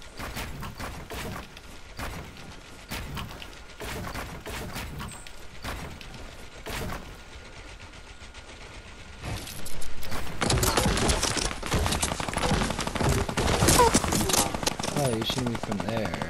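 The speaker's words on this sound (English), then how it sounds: "Oh, you're shooting me from there." Rapid gunfire bursts in a Fortnite solo-versus-squads match crackle through the first half, then a denser, louder barrage of shots and game effects fills the back half, with a voice talking over it.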